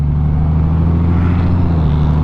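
A 2024 Honda Gold Wing motorcycle with a DCT gearbox pulls hard under acceleration, its engine giving a steady, loud, close drone with a strong low hum and constant wind rush over the top.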